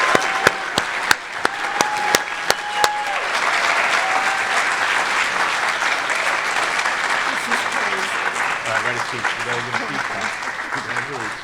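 An audience at a varsity athletics awards ceremony claps warmly for an award recipient, sustained applause filling an indoor hall. A few sharp taps sound at the start, and low murmurs rise as the clapping fades.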